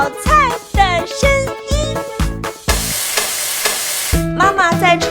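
A kitchen stir-fry sizzle bursts out loud for about a second and a half, a steady hiss set between bouncy, tonal cartoon-like musical notes before and after.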